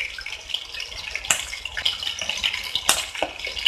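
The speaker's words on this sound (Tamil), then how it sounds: "அது இந்த எண்ணெயில் ஃப்ரை ஆகிடும், சீக்கிரமே ஃப்ரை ஆகிடும்" Chicken drumsticks fry in hot oil with a steady fine sizzle and bubbling, punctuated by a few sharper crackles and pops close by.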